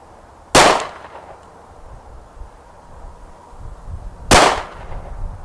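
Two sharp pistol shots from a Diamondback DB-9 fired at a range, spaced about four seconds apart, each loud and close with a short ringing tail over quiet outdoor background.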